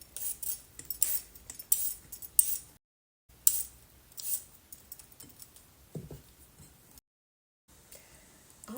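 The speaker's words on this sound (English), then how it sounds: "I have five rather large size, medium sized carrots, and I am going to peel them" Five fairly large carrots being peeled, with quick repeated scraping strokes in bursts broken by two short pauses, fairly close and clear with no talking.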